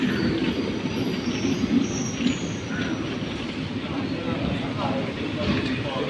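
A passenger train runs on from Irinjalakuda station on the Thrissur to Thiruvananthapuram line, with a steady, loud rumble of wheels and carriages throughout and faint rail squeal near and around it.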